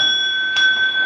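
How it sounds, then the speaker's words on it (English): A single bright electronic chime rings steadily, a sustained two-tone bell sound close by, with a faint knock-like burst midway. "that's the doorbell."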